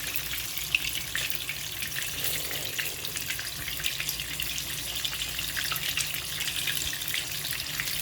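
Spam frying in olive oil in a pan, a steady, fairly quiet crackling sizzle that carries on evenly without any talk.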